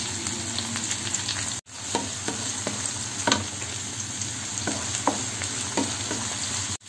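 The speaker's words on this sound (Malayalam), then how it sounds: "അപ്പൊ ഇഞ്ചി വെളുത്തുള്ളി മൂത്ത് വന്നിട്ടുണ്ട്" Ginger, garlic and crushed shallots frying in a pan for a dried-meat dish, a steady close sizzle with occasional clicks of stirring, and no voices.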